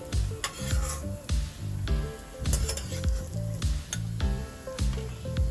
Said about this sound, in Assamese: এনেকৈ বাদামটো ভাজি মই উঠাই লওঁ প্ৰথমতে